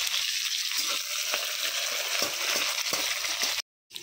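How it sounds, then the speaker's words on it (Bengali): Cumin seeds and onion fry in oil in a pan, a close, steady crackling sizzle punctuated by regular scraping stir strokes, ending in a brief silent gap. "এখন জিরা ভালো করে ভাজা হয়ে গেলে দিয়ে দিব আমি পেঁয়াজ"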